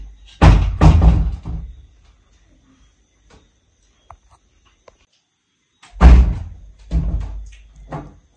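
A house door slams shut with heavy thuds and rattles, two separate bursts of banging several seconds apart with near silence and faint night insects between them.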